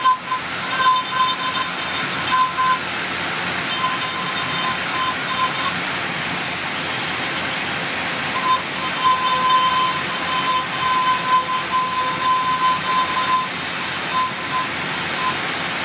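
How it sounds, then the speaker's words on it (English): A Dremel rotary tool carves a wood figure with a loud, continuous high-pitched whine that holds steady for the whole stretch, close up and with no talking. "Start up the Dremel. I'm going to cut this line out."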